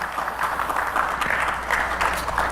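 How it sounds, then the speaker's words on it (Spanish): Steady, moderately loud applause from a church congregation, continuous clapping without distinct peaks and no speech over it. "Dale un fuerte aplauso a Jesús si se lo quiere dar."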